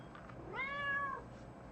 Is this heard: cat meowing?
yes